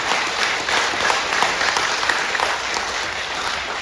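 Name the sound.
audience applause for the speaker's wife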